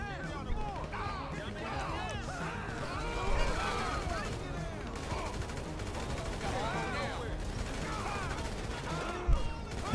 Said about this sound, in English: Big shootouts happening right now.